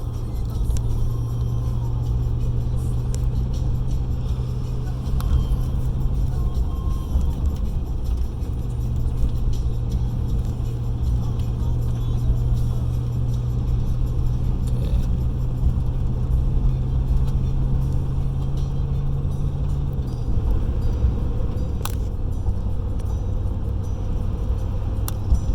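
A vehicle drives on a snowy highway between Alberta and British Columbia, producing a steady low engine drone and road rumble inside the cab, with a slight shift in tone near the end.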